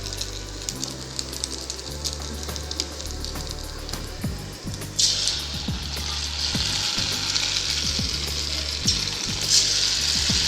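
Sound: noodle pakoda deep-frying in hot oil

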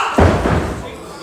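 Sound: wrestler slammed face first off the top turnbuckle

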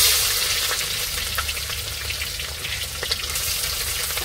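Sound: onion, chili and garlic frying in pan for duck curry

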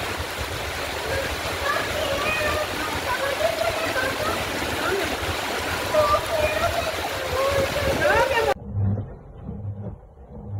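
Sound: floodwater flowing and sloshing in street after storm

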